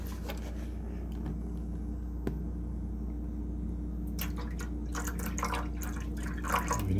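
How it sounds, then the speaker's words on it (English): Vinegar and water solution running through a Keurig coffee maker during descaling, a steady low hum with gurgling, dripping liquid throughout and a few brief sputters near the end. "So I'm gonna mix now half of the tank with the vinegar and the water and run it through completely"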